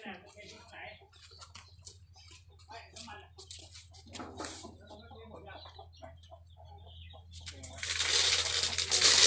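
Domestic chickens cluck in scattered, choppy calls around a backyard coop while someone talks over them, and a broad rushing noise swells loudly near the end.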